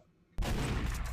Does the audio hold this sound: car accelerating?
no